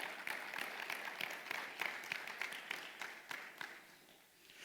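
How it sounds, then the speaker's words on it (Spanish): Church congregation applauding together during a worship service, a dense steady patter of many hands that swells and eases over a few seconds, moderately distant and fairly quiet. "Vamos a darle un aplauso al Señor."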